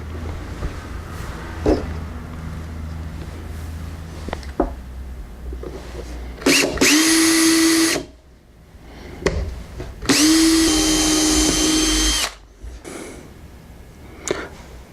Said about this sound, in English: I'm going to start off by putting in a little pilot hole that goes all the way through